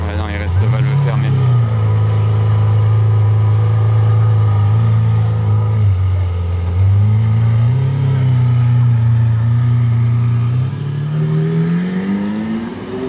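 Lamborghini engine with exhaust valves closed, a loud, steady low droning hum that dips and rises slightly, then climbs in pitch as it revs up near the end; a voice talks over it.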